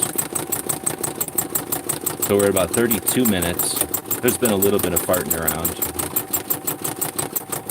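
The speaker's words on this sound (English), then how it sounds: "is it just like watching somebody sew a patch on a sewing machine for hours?" An embroidery sewing machine stitches out a large patch, its motor running with a fast, steady mechanical pulse throughout while someone talks over it.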